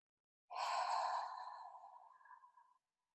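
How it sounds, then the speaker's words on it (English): A single long, slow exhale lasting a little over two seconds during a breathing demonstration, breathy and soft, starting fuller and tapering off alone in quiet. "So I'm breathing in."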